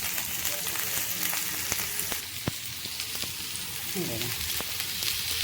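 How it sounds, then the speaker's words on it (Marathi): Onion frying in hot oil for a spicy matki usal gives a steady, close crackling sizzle with scattered sharp pops, and a voice speaks briefly over it. "कांदा आपला कांदा फ्राय करूया तेलावर"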